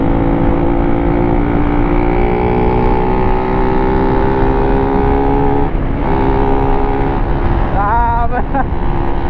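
A Kawasaki Ninja 1000cc motorcycle engine roars steadily and loudly while riding, with a continuous rushing drone and a brief rising rev near the end.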